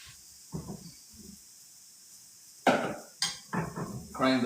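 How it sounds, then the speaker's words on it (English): Mushrooms dropped into hot oil in a pan, a sharp sizzle bursting in twice and then a steady crackling frying hiss, close and fairly loud, after a few soft pan clunks. "So oil is nice and hot, right? So mushrooms are going right in"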